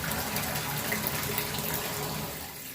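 Tap water gushes steadily into a bathtub being filled for a spiritual bath, a continuous close hiss and splash that eases slightly toward the end.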